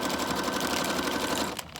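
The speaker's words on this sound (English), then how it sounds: "I'm just going to take it and sew all the way around it" A sewing machine runs steadily, stitching around the edge of a notebook made from a cereal bag and a mailer, with a dense continuous whir that stops abruptly near the end.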